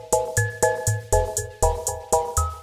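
Programmed drum groove in Ableton Live with every hit at the same velocity, a steady, evenly accented pattern of kick-like thumps and bright clicks repeating about every quarter second with a faint tonal ring.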